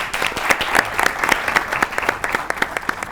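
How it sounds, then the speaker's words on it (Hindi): Studio audience on a Pakistani comedy game show claps for a contestant's answer, a brisk, bright patter of many hands running evenly throughout, loud and close with little talk. "वाकई कमल के लिए ताली होनी चाहिए"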